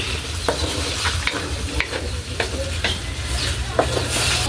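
Pork picadillo is stirred in a sizzling pan, with a constant close frying hiss, a low background rumble and regular spatula scrapes and taps about every half second; no talking.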